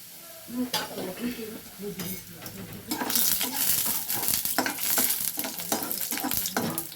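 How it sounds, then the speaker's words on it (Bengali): Lentil dumplings (bori) frying in a pan with oil, a bright crackling sizzle that swells halfway through, punctuated by stirring scrapes and utensil clinks against the pan. "বড়িগুলোকে ভালো করে ভেজে নেব।"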